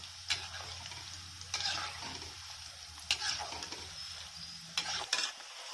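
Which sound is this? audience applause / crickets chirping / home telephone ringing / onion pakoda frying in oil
onion pakoda frying in oil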